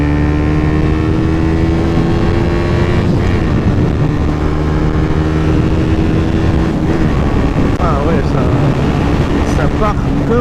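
Suzuki GSX 125 motorcycle engine accelerating at speed, its loud steady note rising through the gears over constant wind roar, with someone talking over it.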